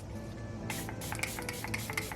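Makeup setting spray hisses from a pump bottle in a few quick, close bursts, each a short airy spritz, with a steady low hum underneath and no talking.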